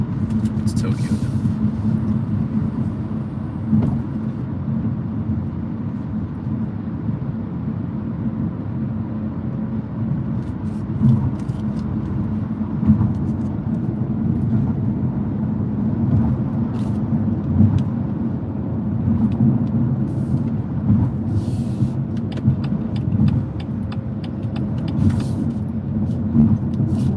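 A car drives through Tokyo streets on low-profile tires with lowered suspension, its steady engine and road rumble continuous throughout, with traffic noise around and a person talking over it.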